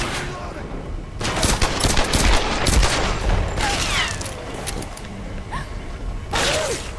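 Enemy gunfire in Tomb Raider (2013) crackles in dense bursts of rapid shots, loud and sustained through several seconds with short pauses between volleys, mixed with game action sounds.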